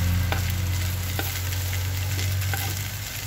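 Pork cubes sizzling and being stirred in a hot pan, a loud, continuous frying hiss broken by a few sharp scrapes of the utensil against the pan, close and with no talking.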